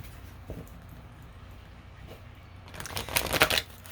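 Quiet rustles, then a burst of rapid riffling as a deck of tarot cards is shuffled near, crisp and fluttering for about a second.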